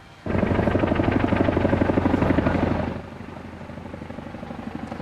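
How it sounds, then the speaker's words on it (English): An RAF Chinook helicopter roars overhead with a deep, rhythmic twin-rotor thump, loud at first and then easing as it moves away. "a Chinook helicopter from RAF Odium flew over Holyrood Church"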